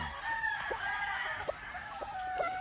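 Roosters and hens on a Nagayaram game farm, with soft clucks and short calls at a moderate distance over light farm ambience; no full crow stands out.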